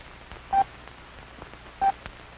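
Two short, identical beeps of a steady tone, about a second apart, over faint background hiss.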